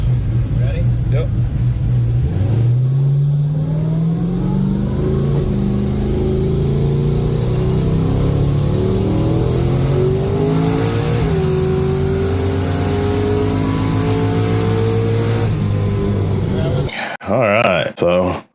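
A turbocharged car engine on a dyno revs hard and continuously under about 30 PSI of boost with a Holley Terminator X boost control setup, climbing steadily in pitch before cutting off abruptly near the end.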